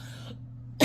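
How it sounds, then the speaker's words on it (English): One dry cough bursts out close and loud near the end, after a stretch of low background hum. "Still got the dry cough."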